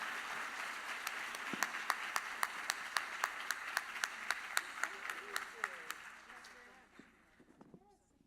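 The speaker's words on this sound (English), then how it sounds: "let's have one more round of applause for our panelists" Sharp, distinct hand claps in a steady regular beat at a women's awards luncheon honoring a panel, fairly faint and sparse, tapering off toward the end as murmuring voices come through.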